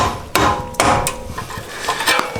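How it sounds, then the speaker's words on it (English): Several sharp hammer strikes on metal during a coilover install on a Honda Civic, a few loud, ringing blows spaced irregularly, followed by lighter taps and clatter. "you see how with this hammer it's just bouncing back and forth"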